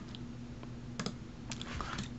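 Keys tap on a computer keyboard as an IP address is typed, with sparse, quiet clicks arriving in small clusters over a faint steady hum.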